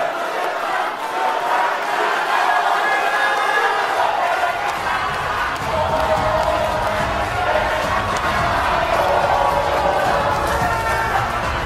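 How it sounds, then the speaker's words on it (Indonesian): An audience at a vice-presidential candidates' debate fills the hall with steady, dense applause and cheering, loud and continuous throughout, with voices mixed into the roar. "Berikan aplaus dan apresiasi untuk 3 calon wakil presiden yang sudah menyampaikan visi, misi, dan program mereka"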